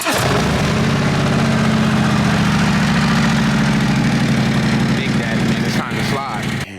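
A 1987 Chevrolet Monte Carlo SS engine cranks and settles into a loud, steady, close idle with a deep throbbing rumble that holds for several seconds before dropping off near the end; a voice talks over it.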